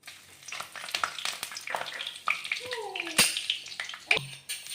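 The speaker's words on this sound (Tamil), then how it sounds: "எண்ணெய் காஞ்சிருச்சு இப்போ பட்டை சோம்பு கல்பாசி பிரியாணி எல்லாம் எல்லாத்தையும் போட்டு தாளிச்சிருவோம்" Cinnamon, fennel and other whole spices crackle and sizzle in hot oil for a Chettinad tomato kulambu, with scattered pops and clatters, close and soft.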